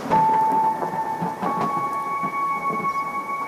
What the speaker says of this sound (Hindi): आसमान में बिजली कड़कती है और तेज बारिश शुरू हो जाती है